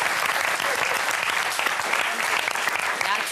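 An audience applauds a singer who won an Edison music award, clapping steadily throughout, a dense, even wash of applause with no pauses.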